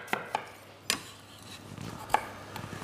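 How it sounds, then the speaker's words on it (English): A knife chopping food on a board during a junior cook-along, a few sharp isolated knocks spaced irregularly over quiet kitchen background. "Pops, let's get some good chopping"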